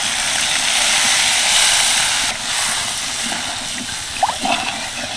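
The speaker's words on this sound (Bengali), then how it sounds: "এবার দিয়ে দিচ্ছি কিছুটা নর্মাল জল।" Plain water hits hot masala gravy in a pan for a vegetarian cabbage curry, a loud steady hissing rush that drops partway through and then continues quieter, with a couple of brief clinks near the end.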